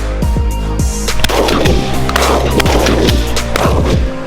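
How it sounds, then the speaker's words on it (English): Repeated sharp shotgun blasts boom in quick succession during a dove hunt, several overlapping blasts with rumbling decays, loud and close. "All these gunshots."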